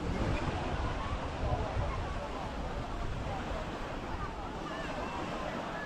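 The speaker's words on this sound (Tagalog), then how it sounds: "Malakas yung alon." Strong sea waves wash continuously onto Katong beach in Macrohon, Southern Leyte, a loud, dense surf roar mixed with wind buffeting the microphone, with no distinct breaks.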